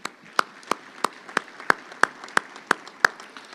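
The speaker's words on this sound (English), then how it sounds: "Could we give them a big round of applause" Sparse, slow claps ring out at a Chamber of Commerce monthly luncheon for the event sponsors, about ten sharp evenly spaced hits over a few seconds, fairly close and with no talk over them.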